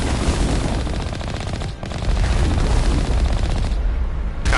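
Sustained automatic gunfire and rocket blasts in the Mass Effect 1 video game, a dense, continuous barrage with a brief dip near the middle, loud and unbroken by talk.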